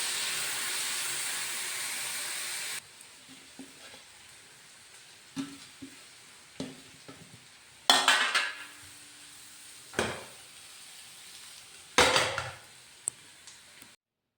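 Sprouted green gram with salt and turmeric is mixed in a pan, with a hiss at first and then scattered scraping and clinking strokes of a utensil, some louder, separated by quiet gaps.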